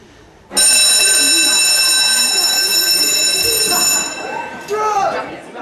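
A loud electric school bell rings in a C-block corridor, a sustained harsh buzzing clang that starts abruptly and holds for several seconds before cutting off, followed by a brief burst of corridor noise.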